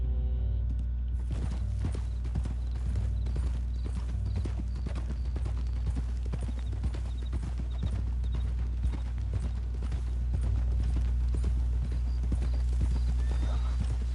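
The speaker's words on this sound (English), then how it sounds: "Cavalo, cavalinho." Horse hooves clip-clop steadily in the Red Dead Redemption 2 video game, a continuous walking rhythm with an occasional whinny over a constant low rumble of game ambience and music.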